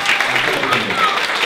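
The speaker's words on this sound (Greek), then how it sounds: "Ένα χειροκρότημα για τον Κώστα τον Παντούλα." A comedy club audience breaks into applause, a dense, steady wash of many hands clapping throughout.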